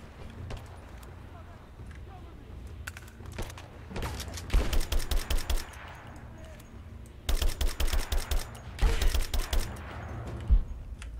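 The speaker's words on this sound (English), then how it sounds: "Stop shooting me." Bursts of video game gunfire in Rise of the Tomb Raider come in two loud, rapid clusters of shots, with quieter scattered shots and game ambience between them.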